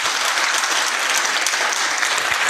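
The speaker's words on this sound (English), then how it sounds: "We may all applaud Our Excellency for that speech." A large audience applauds steadily after a speech at the launch ceremony of a centre of excellence for climate action and research, dense and loud clapping that continues without a break.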